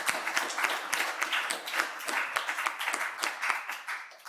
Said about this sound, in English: I'd just like to have one final round of applause for the entire panel for their amazing work and speeches today